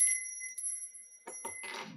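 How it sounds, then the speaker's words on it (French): A small bell gives a bright, clear ring at the start, and its high tone lingers softly for about a second before fading. Brief indistinct sounds and a rustle follow near the end. "désolé si pour ceux que ça dérange la petite cloche"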